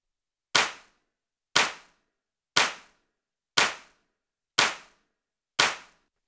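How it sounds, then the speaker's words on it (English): A wide stereo layered clap sample for a mix, six crisp, punchy hits repeating evenly about once a second, each with a short bright tail, heard alone without any voice. "So now you have this big wide clap sound, again with clap number 2 being the main sound"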